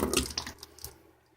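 Water trickles and splashes from a siphon hose into a bucket during a small freshwater fish tank water change, a brief close gurgling burst that quickly fades.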